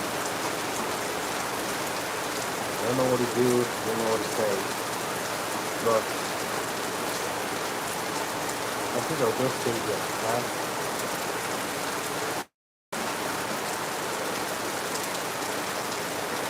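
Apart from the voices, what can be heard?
heavy rain falling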